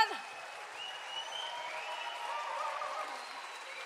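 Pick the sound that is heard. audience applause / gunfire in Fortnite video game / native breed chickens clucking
audience applause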